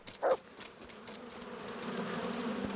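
Faint, low buzzing of bees in the video game Kingdom Come: Deliverance hums softly throughout, with a brief sharper chirp near the start.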